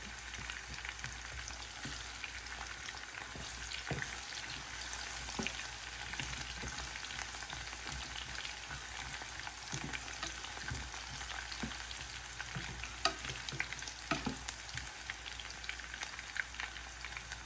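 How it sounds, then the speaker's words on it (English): Onions sweating in a pot, a quiet, even frying crackle with scattered soft pops and occasional light utensil taps, faint and steady throughout with no speech. "So I just want to sweat down my onions a bit."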